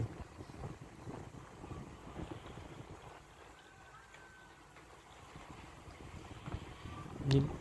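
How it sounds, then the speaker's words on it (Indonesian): A small boat carrying passengers rocks on moderate waves at sea among remote islands, giving a continuous wash of water and wind buffeting against the hull, steady and fairly quiet, with a short bump near the end. "ombaknya lumayan tuh teman-teman, kapalnya juga kecil jadi lumayan goyang-goyang"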